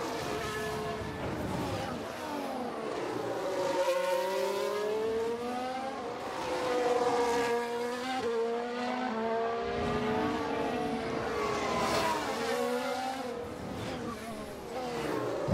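Simulated Formula 1 race car engine from F1 Manager 2022 at full throttle on a qualifying lap, a continuous high revving whine with rising and falling pitch sweeps and faint tire noise, loud and steady throughout.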